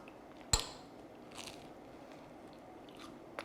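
A single sharp crunchy bite into a Korean corn dog with a crispy breaded exterior, one loud crackling snap followed by quiet chewing.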